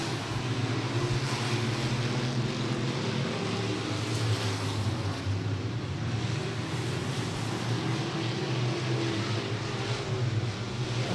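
Sport Mod race cars run hot laps at Beckley Motor Speedway, their engines a loud, continuous roar that holds steady throughout with no voices.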